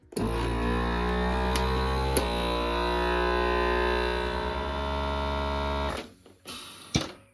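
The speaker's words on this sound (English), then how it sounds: "turn on my vacuum sealer" A vacuum sealer's steady motorized hum drones loudly for about six seconds, then cuts off automatically, followed by a couple of short clicks and knocks.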